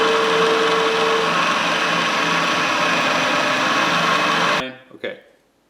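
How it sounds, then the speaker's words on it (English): A center drill spins into metal on a milling machine in a home machine shop, giving a steady, loud, even whine that runs for several seconds and then cuts off abruptly, followed by a couple of faint clunks. "Right now I got my center drill,"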